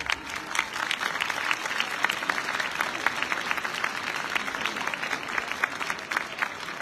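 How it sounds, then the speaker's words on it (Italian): Sustained applause from a large audience at a Christmas concert by hundreds of children, steady crackling clapping heard from some distance and moderately quiet throughout. "vorrei che faceste un grande applauso"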